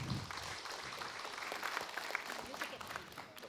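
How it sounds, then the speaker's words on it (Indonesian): Audience applause in a TV studio at a children's Islamic preaching competition, a continuous crowd clapping at moderate loudness with voices talking over it throughout. "Tepuk tangan dulu untuk Ashraf ini."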